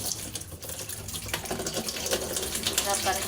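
Water runs steadily from a tap with splashing as wheat flour dough is washed by hand, and a voice speaks over it.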